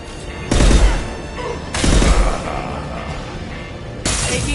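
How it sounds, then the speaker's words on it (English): Gunfire in Mass Effect 2 on Insanity difficulty, heard as three loud broadband bursts of automatic fire at about half a second, 1.8 seconds and 4 seconds, with rumbling combat noise filling the gaps. "Taking fire."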